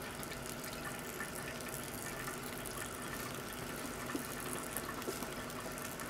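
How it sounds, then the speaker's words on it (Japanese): Hot water trickles gently into the centre of coffee grounds in a drip brewer, a faint, steady pour with no talking. "そうしたら初めて真ん中にお湯を差す感じですね"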